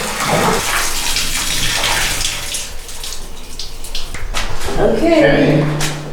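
Waste water gushing out of an emptied cassette toilet in an expedition vehicle, a loud continuous pouring splash. Voices can be heard over it.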